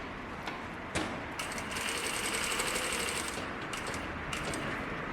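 A sewing machine stitches fabric up close in fast, even bursts, pausing briefly between runs, with no voices.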